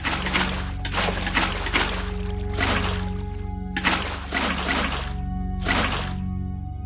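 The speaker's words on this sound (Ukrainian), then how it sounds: "Та одразу наберемо в басейн води." Water is placed block by block into a pool in Minecraft, giving a series of about five splashing, pouring whooshes over a steady low background tone.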